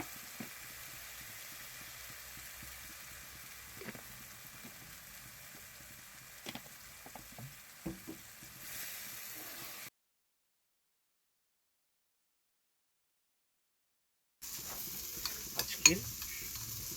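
Whole spices temper in hot oil for a potol sorshe-posto dish: a soft, steady sizzle with occasional stirring taps that cuts to silence for a few seconds, then returns slightly brighter.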